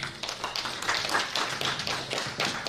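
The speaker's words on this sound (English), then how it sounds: "Let's clap for her." Scattered clapping from a small group at a clean energy research event, light and uneven, with quick overlapping claps that fade in and out over a few seconds.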